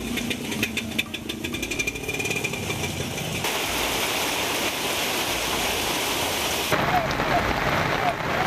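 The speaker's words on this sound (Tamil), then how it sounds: "தேனி, நத்தம், போடி சுற்றுவட்டாரத்திலும் மழை கொட்டி தீர்த்தது." Heavy rain pours down in a steady, dense roar around the Theni, Natham and Bodi area, a continuous broadband wash that stays loud throughout with no clear pauses.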